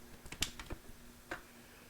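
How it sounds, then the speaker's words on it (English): Starter relay on a 1993 Yamaha Riva 125 scooter with a no-start problem, giving a few faint, close, irregular clicks in a quiet room. "So, sounds like this relay is the one that's clicking."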